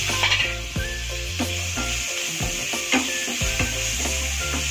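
Chopped vegetables and tomato frying in a pan for masala oats, a loud continuous sizzle with scraping stirring strokes and light utensil clinks, close up and without talk.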